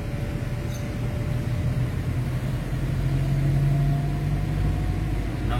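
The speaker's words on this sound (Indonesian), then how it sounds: "Macet ini macet. Macet pemirsa," Idling car engines hum low and steady in a traffic jam on the road to Pangandaran, a dense, continuous rumble heard from inside a vehicle, with no talking.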